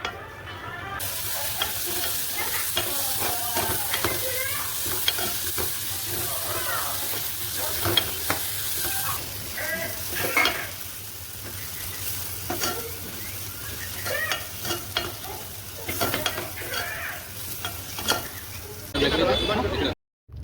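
Prawns frying and being stirred in a pan with salt, chilli powder and garam masala, a continuous loud sizzle with scraping stir strokes throughout and a voice talking over it.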